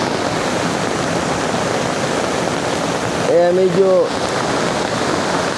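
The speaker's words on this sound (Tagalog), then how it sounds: "lumakas na naman ang ulan" Heavy rain pours down steadily during flash flooding at a camp, a dense, loud hiss that runs through the whole stretch while someone speaks briefly partway through.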